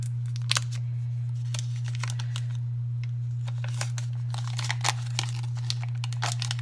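Two sticks of salted butter being unwrapped from their wrappers in a kitchen, giving close, irregular crinkling and paper rustling in scattered bursts over a steady low electrical hum.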